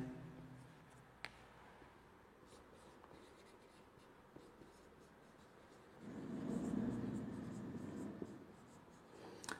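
Pen or marker writing out a chemistry equation on a board or paper, a soft scratchy stroking that grows louder and denser in the last few seconds, alone with no talk.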